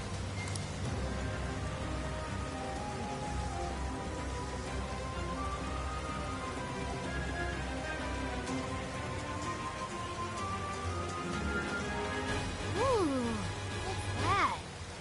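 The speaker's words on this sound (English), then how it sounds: "It just started pouring all of a sudden." A sudden downpour in the video game Persona 5 Strikers, with heavy rain hissing steadily over a low background music bed. Whooshing game effects rise near the end.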